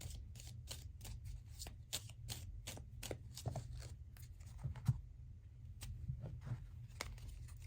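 Cards from the Forest Fae oracle deck are shuffled in a quick, steady run of crisp riffling flicks close by, with a brief pause before more shuffling, and no talking.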